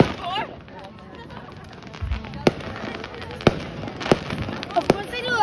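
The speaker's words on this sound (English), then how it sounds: "Oh, now they have their cool fireworks." Distant fireworks pop and crack in several sharp bursts over a rumbling crowd at a beach, with voices chattering throughout.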